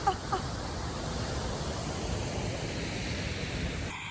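A powerful waterfall in the Canadian Rockies roars steadily with a dense, unbroken rush of falling water and spray, loud and constant throughout.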